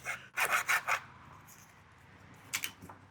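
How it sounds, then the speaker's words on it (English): Hand sawing a piece of wood beside a shave horse, four quick rasping strokes in a row, a pause, then a couple more strokes, close and fairly quiet. "sawing's still one thing I can't do left-handed"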